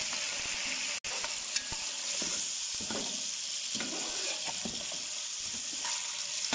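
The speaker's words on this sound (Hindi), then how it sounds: "अब इसके अंदर मैं सारा गोश्त डालने लगा हूँ। आपने गोश्त को अच्छी तरह भूनना है।" Chunks of beef sizzle in a pot with golden brown onions in hot oil, a steady crackling hiss broken by stirring scrapes and one sharp knock near the start.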